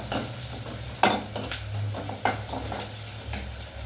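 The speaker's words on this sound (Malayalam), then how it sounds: "അപ്പം തീയുടെ ചൂടും അതിൻ്റെ ചൂടും കൂടി വരുമ്പോൾ പെട്ടെന്ന് ഉള്ളി പൊരിക്കും" Onions with salt sizzle and crackle steadily in a hot pan, with a couple of sharper clinks or stirs standing out over the continuous frying hiss; no one speaks.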